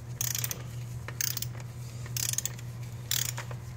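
A torque wrench ratchets engine bolts on a 2008 Mazda during gasket replacement, four close bursts of rapid clicking separated by short pauses, over a low steady hum.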